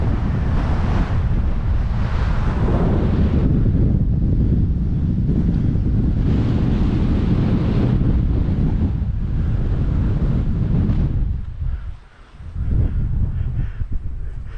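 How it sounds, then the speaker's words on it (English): Strong wind on an exposed Port Hills hilltop roars and buffets the microphone in loud continuous gusts. It eases briefly near the end before surging back. "Really blowing hard up here now."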